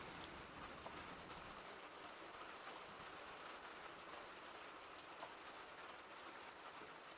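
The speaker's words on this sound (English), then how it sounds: "Weird green lighting today with the rain." Rain pours down outdoors as a quiet, unbroken hiss with faint scattered drop ticks and no talking throughout.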